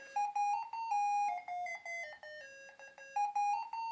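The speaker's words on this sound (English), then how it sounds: "alarm has gone off" An OUTWIT kids alarm clock goes off, playing a bright electronic chime melody of clear stepped tones in a quick, bouncy rhythm, close and fairly quiet, with no other sound around it.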